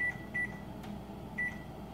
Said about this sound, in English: I'll just put a timer for 8 minutes.